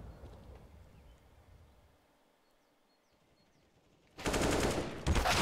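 Rapid automatic gunfire from Counter-Strike on the Inferno map bursts in loud and close near the end, after a quiet stretch of faint game ambience.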